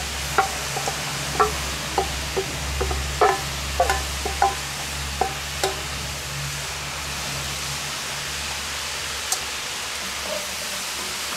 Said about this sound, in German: Und tue es auch schön anbrutzeln, anbraten.